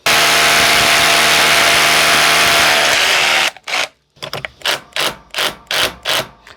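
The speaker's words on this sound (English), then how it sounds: "So what I'm doing here when I'm drilling, I'm just pressing and just triggering just to start the hole" A power drill bores a hole into a masonry wall: a loud, continuous grinding whine for a few seconds, then a brief gap and a run of short, evenly spaced bursts as the trigger is pulsed, with no talking.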